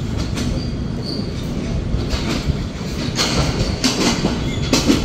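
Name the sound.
intercity Chitra Express train pulling into platform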